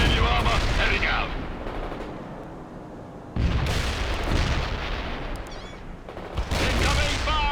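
Gunfire and artillery fire in the real-time strategy game World in Conflict, a dense and continuous barrage of rattling machine guns and heavy booming impacts that surges loud twice, with faint radio-style voices in the mix.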